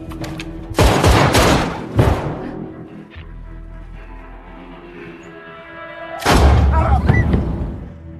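Gunfire in a prison and mafia action film scene: heavy, booming shots in loud bursts, with a rumbling lull between them and low background sound, then another sustained volley near the end.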